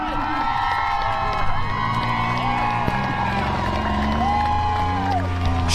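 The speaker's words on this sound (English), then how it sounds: "Cheer her home, ladies and gentlemen." A large crowd cheers and shouts continuously at a demolition derby autocross event in Fargo, a dense wash of voices and whoops filling the space, with some tonal music or announcements layered underneath.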